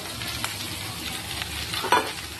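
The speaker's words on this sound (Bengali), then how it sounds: "আলুটা আর মটরশুঁটিটা হালকা করে ভেজে নেবো" Potatoes and peas lightly frying with cumin in a pan give a steady, moderate sizzle with a few spoon scrapes, heard up close and without speech.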